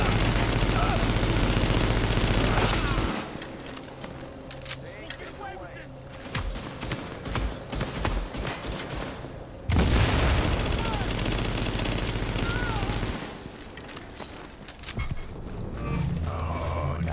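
Heavy gunfire in The Division, with snipers firing, sounds as dense sustained volleys and booming shots under a constant loud background, broken by short quieter gaps with scattered reports and game voices.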